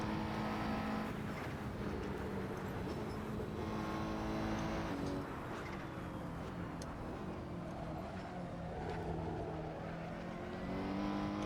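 Race car engine in the video game Assetto Corsa, a continuous mid-level drone that shifts in pitch as the car accelerates and changes gears, heard alone without voices.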